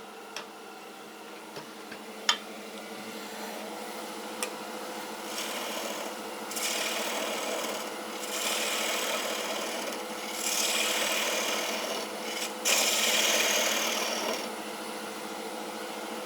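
A bowl gouge cuts a textured wooden bowl on a lathe, giving a steady scraping, rasping hiss that swells in a few longer passes, with occasional sharp ticks, close and without talk.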